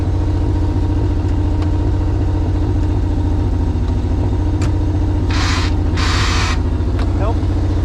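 A 1986 Pontiac Fiero GT engine runs steadily at a loud, close, even rumble, its pitch holding near a constant rev, with two brief bursts of hiss partway through.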